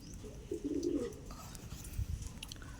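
Racing pigeons give a short, soft, low coo at close range, followed by faint rustling and shuffling in a quiet coop.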